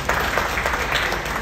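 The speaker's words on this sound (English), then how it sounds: "to the applause." An audience applauding at the debut of the new 2022 Range Rover in Los Angeles, a steady wash of clapping from a crowd throughout.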